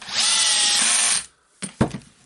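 A power tool drives the last screw into a Milwaukee HD18HIW impact wrench during an anvil replacement, one loud steady whir of about a second, then two short sharp clunks as the tool is set down.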